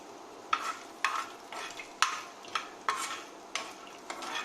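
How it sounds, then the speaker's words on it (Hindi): Almonds roasting in hot ghee, a steady soft sizzle broken by regular scraping stirs roughly every half second, close and moderately loud with no voices. "गरम घी में सेक लेंगे।"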